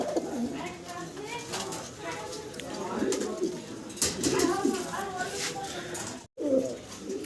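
Pigeons cooing in a loft, repeated low throaty coos close by, with someone talking over them and one brief dropout near the end.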